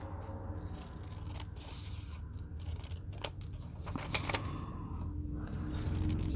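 Scissors snipping through a paper library pocket, a few crisp close cuts with a sharp snip near the middle, quiet and alone against a low background hum.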